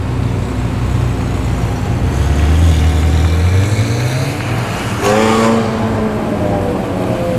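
A Honda Civic leaving a Sydney car show revs and accelerates away, its engine rising in pitch over steady roadway noise, then a second throttle surge follows, fairly loud and close.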